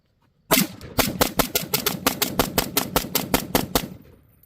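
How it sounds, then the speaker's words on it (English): A Sig MCX Spear rifle mag dump: a sharp loud opening shot followed by a steady rapid string of about a dozen more close, evenly spaced shots, ending abruptly. "let's get this mag dump out of the way"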